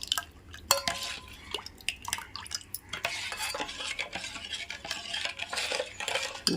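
Jaggery is stirred into tamarind pachi pulusu for brinjal (vankaya), with a spoon scraping and clinking against the pot in uneven close strokes and faint liquid sloshing.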